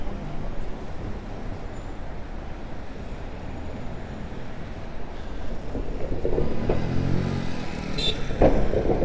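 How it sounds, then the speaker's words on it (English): A New York City subway F train rumbles steadily throughout, a continuous low roar that grows louder toward the end with brief high metallic squeals near the finish. "This is the F train."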